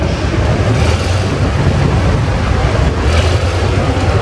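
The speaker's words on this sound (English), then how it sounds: "This next one coming up here is the Farmall Model H." A Farmall Model H tractor rumbles past in a tractor parade at the Midwest Old Threshers Reunion, its steady, loud, low engine chugging filling the whole stretch with no talk over it.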